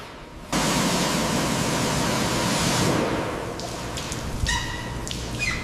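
High-pressure rinse spraying down a corroded police SWAT truck during a restoration, a loud steady hiss of water jet that eases slightly toward the end, with faint clinks near the close.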